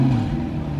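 A turbocharged Lamborghini Huracan engine growls in a steady, loud rev for under a second, close by at a gathering of cars.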